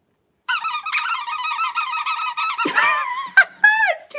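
A run of rapid, high-pitched squeaks, close and fairly loud, breaking into a few separate squeals at the end, with no talking alongside.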